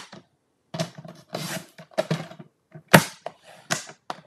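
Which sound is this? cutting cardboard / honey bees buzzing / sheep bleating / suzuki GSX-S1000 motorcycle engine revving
cutting cardboard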